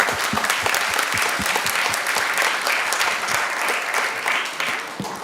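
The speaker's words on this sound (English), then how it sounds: "So let's give everybody a round of applause." Sustained audience applause fills the room at a jewelry industry trade symposium after a panel discussion, dense and steady clapping with a few sharper individual claps standing out throughout.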